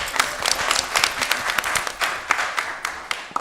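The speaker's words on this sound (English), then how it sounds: "let's give her a round of applause" An audience at a Broadview village board meeting applauds a trustee, a modest round of scattered hand claps that carries steadily from start to finish with no talking over it.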